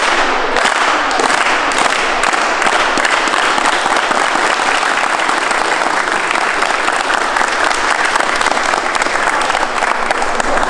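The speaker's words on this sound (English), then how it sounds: "Give me another clap." A youth sports team claps together on a coach's command before a game, producing a loud, dense wash of many hands that continues steadily without a break.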